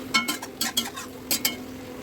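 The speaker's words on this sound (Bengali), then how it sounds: "আলুটা কষানো মশলার সাথে দিয়ে নেড়ে চেড়ে আরেকটুখানি কষিয়ে নিচ্ছি" Boiled potatoes being stirred with fried spices in a pan over a medium flame, heard as a few close scraping strokes over a faint sizzle.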